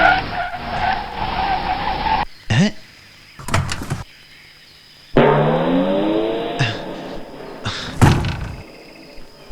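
A brand-new car costing 80 lakh skids with tire squeal, then thunks and sputters to a stall, with repeated engine cranks and door clunks following in short, loud bursts.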